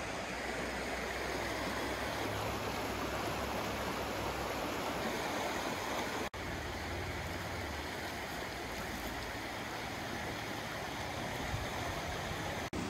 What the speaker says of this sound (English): So we're both in the creek now.